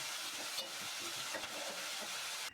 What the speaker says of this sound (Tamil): இந்த வெங்காயத்தை சேர்த்துக்கிறேன். கூடவே கருவேப்பிலை கொஞ்சம் சேர்த்துட்டு நல்லா வதக்கிக்கிறேன்.